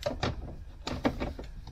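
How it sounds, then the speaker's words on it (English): A storage drawer on a VW Transporter T6 Comfort Dash slides into the dashboard. It gives two close clusters of plastic knocks and rattles, each a short burst of clunks, moderately loud with no speech. "slide this drawer in"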